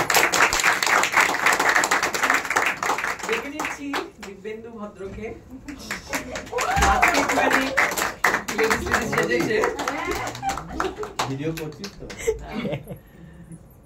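Audience at a Bengali theatre convention event in Naihati claps for an actor, a dense burst of applause under ongoing talk from a host on a microphone, easing toward the end.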